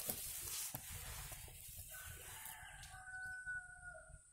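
A chicken caught in a turtle-dove trap crowing and squawking in pain, strained and drawn out, over a faint hiss of background noise.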